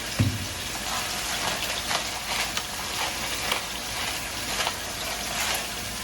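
Chicken pieces seasoned with salt and pepper sizzle steadily in a hot pan, a continuous crackling hiss with small pops throughout, moderately close and uninterrupted by talk.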